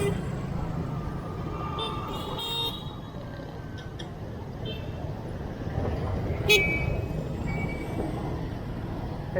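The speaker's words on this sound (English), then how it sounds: "It's days like these I'm glad I got a car horn." A loud overvolted motorbike horn fitted to an e-bike toots in busy Saigon street traffic, with short horn blasts over the steady hum of vehicles and a person talking nearby.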